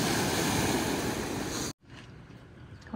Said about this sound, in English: And no, this isn't the ocean. This is a lake.